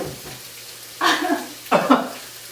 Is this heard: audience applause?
no